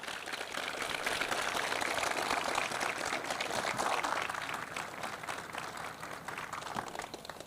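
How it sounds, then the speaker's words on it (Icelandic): Sustained, dense applause from an indoor audience at the christening ceremony of the ship Börkur NK-122, steady and fairly close for the whole stretch, fading slightly at the end. "Gefum við gott klapp."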